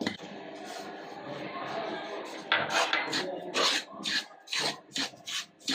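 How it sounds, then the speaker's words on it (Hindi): Semolina roasting in a spoonful of ghee in a pan, a spoon scraping and stirring with a soft sizzle, then rhythmic rasping strokes close up. "अब हम पैन में 1 चम्मच घी डाल के सूजी भी भून लेंगे।"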